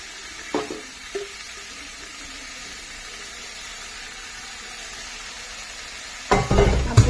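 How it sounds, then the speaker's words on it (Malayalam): Cut bitter gourd being sautéed and stirred in a pan, with a couple of soft utensil knocks early on, a long quiet stretch, then a louder burst of scraping and sizzling near the end; no one talks. "അപ്പോൾ ഇത് തൊട്ടിട്ട് നല്ലോണം ഒന്ന് വഴറ്റുക"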